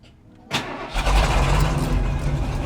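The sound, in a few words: old Ford F-150 engine starting and running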